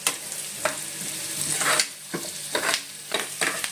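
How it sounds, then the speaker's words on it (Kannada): Onions browning in butter in a pan for a Malnad-style bamboo shoot stir-fry, a steady close sizzle broken by several scraping stirs of a spatula, no voices. "ಚೆನ್ನಾಗಿ ಫ್ರೈ ಆಗಬೇಕು. ಈರುಳ್ಳಿ ಬ್ರೌನ್ ಆಗಬೇಕು."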